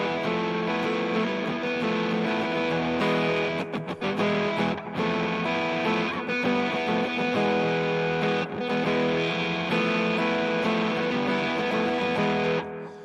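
An electric guitar with heavy distortion plays a sustained, Middle Eastern-flavored hard rock riff, loud and dense, with brief pauses between phrases.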